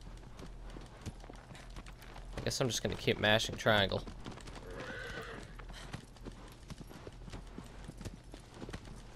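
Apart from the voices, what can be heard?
horse galloping hooves in video game Shadow of the Colossus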